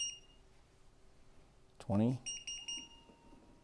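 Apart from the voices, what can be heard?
cooker beeping as buttons pressed to start timer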